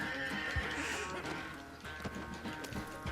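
A horse clip-clops and whinnies in Red Dead Redemption II, with a neigh early on and hoofbeats against an ambient game background. The horse sounds moderately close, with no talking.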